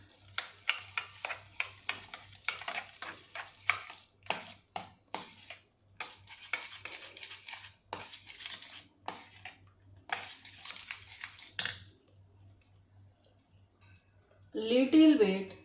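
Puffed little millet mixture being stirred in a bowl with a spoon, giving repeated soft scraping and clinking strokes in an uneven rhythm, close and fairly quiet, followed by a pause and a brief louder burst near the end.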